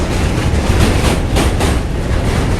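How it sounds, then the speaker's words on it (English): A subway train rumbles past beneath a bridge, a steady loud roar of wheels and rail noise with faint clickety-clack that holds throughout without any speech. "They're really running a lot of trains."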